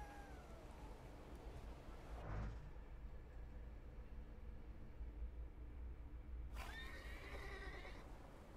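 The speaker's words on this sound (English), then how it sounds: "I meant to take the horse out for a ride, so get on." Horse neighing in the video game The Thaumaturge, two distinct whinnies with rising and falling pitch, one near the start and one near the end, over steady low background ambience.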